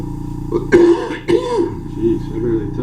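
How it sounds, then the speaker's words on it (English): Cough reflex set off while an ear canal is examined, two short forceful coughs about half a second apart, close and fairly loud, with voices talking around them. "it can make you cough if we tickle the ear the right way"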